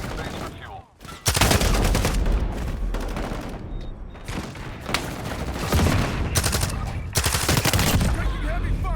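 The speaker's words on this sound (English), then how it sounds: "Taking heavy fire." Heavy gunfire in the video game Modern Warfare, dense rapid bursts of shots layered close together, nearly continuous for several seconds after a short lull, with a voice talking faintly underneath.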